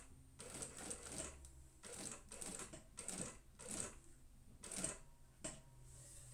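A sewing machine stitches a handbag zipper placket in a series of short, close, rhythmic bursts of rapid needle clatter separated by brief pauses, with no talking.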